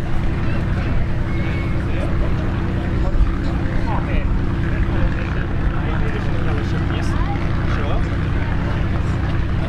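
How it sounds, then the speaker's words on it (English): A Lockheed C-130H Hercules of the Royal New Zealand Air Force flies a display at an air show, its steady, loud propeller drone continuous throughout, with a commentator's voice over it. "Aircraft over, accelerating down."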